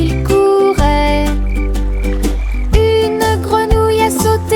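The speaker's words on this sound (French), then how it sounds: "Une grenouille a sauté et a fait signe de la main." Cartoonish frog croaks sound within a bright children's nursery-rhyme song, loud and tonal, repeating in short bursts over sustained musical notes.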